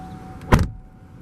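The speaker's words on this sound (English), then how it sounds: "Go ahead, close the door." A single solid car door thump on a 2014 Buick LaCrosse, close and loud, followed by a steady faint hum.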